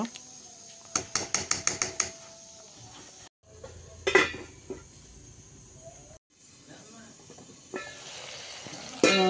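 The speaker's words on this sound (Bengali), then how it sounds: "এখন একটু ঢাকনা দিয়ে ঢেকে দিব এই মশলাগুলো কষে যাওয়ার জন্য" Spices for chicken curry sizzle softly in a covered pan, a steady hiss broken by sharp clinks of a lid and utensil against the pan, with a few bright metallic knocks near the start.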